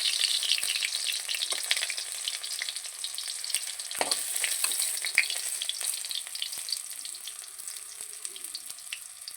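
Egg and jute-leaf fritters fry in plenty of hot oil, giving a steady crackling sizzle close by with occasional sharper pops and a light utensil clink.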